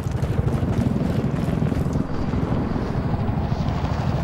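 A helicopter in Battlefield 4 roars steadily with a loud, dense rotor and wind-like rumble, continuous and close throughout.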